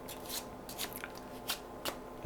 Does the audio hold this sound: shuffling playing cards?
yes